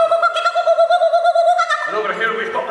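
A human voice imitating a kookaburra call, rendered as a quacking sound, with a sustained warbling hoot that breaks into a rougher, buzzier squawk near the end, loud and close.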